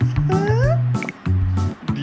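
A cat meows in a children's kindergarten learning cartoon: a few tonal, pitch-sliding calls close up, alternating with overlapping speech-like sounds.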